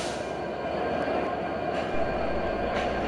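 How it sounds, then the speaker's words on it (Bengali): A modern locomotive of the Intercity Rupsha Express rolls along to couple with its train, giving a steady, loud, close rumble of engine and wheels with no voices. "আমাদের লোগোমোটিভটি ছুটে চলেছে ট্রেনের সঙ্গে সংযুক্ত হওয়ার জন্য"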